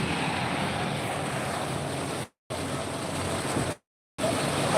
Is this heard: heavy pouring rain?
yes